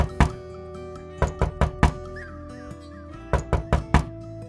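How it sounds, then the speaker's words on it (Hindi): Knuckles knocking on a wooden house door at night, two sets of sharp solid raps, four knocks each, separated by a short pause. "अपनी मां के घर पहुंचकर उसने दरवाजा खटखटाया।"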